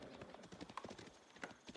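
Horse archers moving in the video game Age of Empires, a faint, quick patter of galloping hooves that runs continuously for under two seconds.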